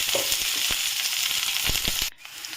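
Onions frying in hot mustard oil with dried red chillies and bay leaves, a loud, steady sizzle with a few sharper crackles, cutting off abruptly near the end and leaving a quieter hiss.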